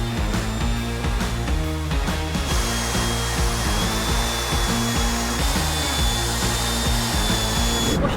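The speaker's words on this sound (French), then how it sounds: "Donc ensuite, ponceuse à bande." A belt sander works steadily across a wooden piece being shaped into a standing toy, giving a loud, continuous abrasive whir with a rhythmic low pulsing throughout and no voices.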